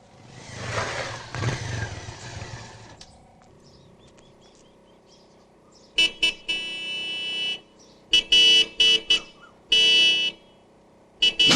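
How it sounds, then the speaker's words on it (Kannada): Loud electronic horn blasts, one sustained and several short bursts in a stuttering pattern, after a stretch of voices and muffled rumble. "ಏನ್ಲಾದು ಹಾರ್ನ್ ರಿಪೇರಿ ಹಾರ್ನ್ ರಿಪೇರಿ"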